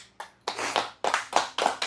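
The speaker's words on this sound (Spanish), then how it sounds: "Le damos un aplauso a Dios." A few people in a small church congregation clap in irregular bursts during a worship service, sharp close handclaps arriving in clusters separated by brief pauses.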